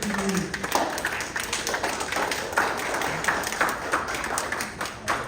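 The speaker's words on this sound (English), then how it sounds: "Now you can applaud." Audience applause in a presentation hall as a presenter walks up to the stage: a steady wash of many hands clapping, moderately loud and continuous throughout, with faint voices underneath.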